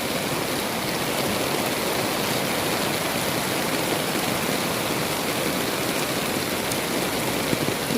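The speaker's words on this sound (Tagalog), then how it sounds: "Talagang palakasan ng ulan." Heavy rain pours outdoors in a steady, dense roar, loud and unbroken for the whole stretch, with no voices over it.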